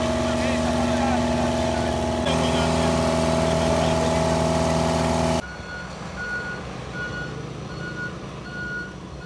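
A truck reverses on a street being paved, its engine droning steadily while a regular series of high warning beeps repeats in the later part, close and fairly loud.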